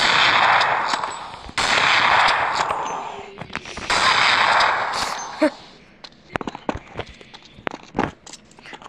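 Loud bursts of gunfire from Counter-Strike 1.6 played on Android on the Dust 2 map: two sustained, rapid automatic volleys up front, then scattered single shots and clicks trailing off more quietly.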